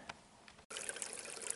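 Water flows and trickles steadily near a trailhead in the Arc Dome Wilderness, a soft, continuous babbling that grows fuller after a brief gap, heard alone without talk.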